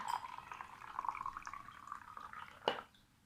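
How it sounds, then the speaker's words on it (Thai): Hot water, about 150 ml, is poured into a shaker cup while making cocoa with fresh milk; a steady, faint trickling stream runs for a few seconds, then a brief knock near the end as the pour stops. "เทน้ำร้อนลงไปค่ะ"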